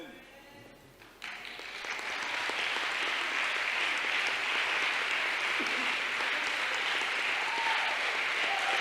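A church congregation breaks into applause that swells within the first couple of seconds and then holds as a dense, loud, sustained clapping through to the end.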